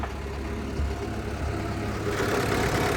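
The four-cylinder turbo diesel engine of a Caterpillar 910G wheel loader idles steadily nearby, a low rumbling drone with a slight rise in loudness toward the end.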